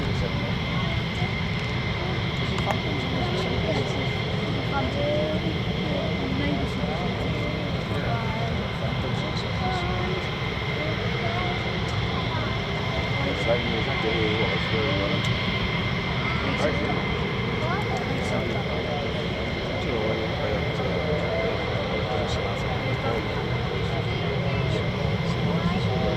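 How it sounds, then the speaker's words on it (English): F-15 fighter jets taxi at RAF Lakenheath, a steady distant engine whine and rumble that holds throughout, with people talking over it. "think we've got more F-15s taxiing out there"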